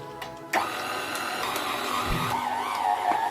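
A stand mixer kneads croissant dough at very low speed, a steady mechanical whir that starts abruptly after a brief quiet moment and holds at an even, moderate level.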